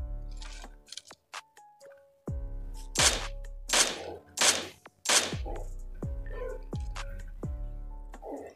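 Sharp, loud shots from a video game ring out one after another, about eight bursts with short gaps and a steady game tone underneath, with no talk over them.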